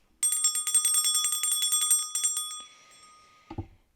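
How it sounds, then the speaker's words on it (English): A bicycle-style bell rung before a tarot reading, trilling rapidly and continuously for about two and a half seconds, close and bright, then fading, followed by a soft thump. "Start with the bell because I like to clear frequency wise."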